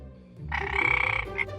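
A frog gives a loud, close, rapid croaking call for about a second, then a short second croak, with nothing else heard.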